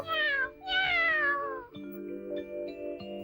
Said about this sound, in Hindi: तो तुम सड़क छाप बिल्ली हो।